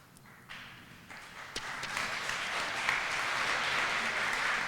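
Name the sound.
light applause from lecture audience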